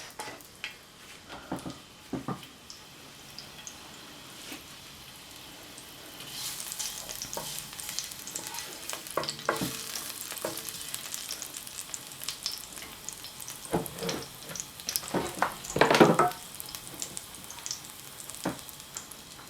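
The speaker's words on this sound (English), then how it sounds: "Add the peppers in first." Peppers fry and sauté in a pan with oil, a quiet sizzle that swells when stirred, punctuated by scattered utensil scrapes and taps, strongest burst near the end, no voices.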